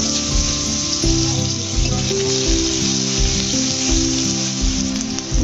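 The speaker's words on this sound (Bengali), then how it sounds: "তো এই তেলেই দিয়ে দেব জিরে ফোড়ন।" Loud, crackling sizzle of cumin seeds frying in hot oil left from frying fish, steady and close, with bursts of popping throughout.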